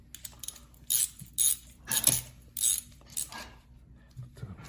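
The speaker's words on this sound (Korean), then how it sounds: "이 13mm 깔깔이로 이걸 풀어주셔야 돼요" A 13mm ratchet wrench working a nut loose, producing a series of sharp metallic clicking bursts in an uneven rhythm, close and fairly loud, with quiet gaps between them.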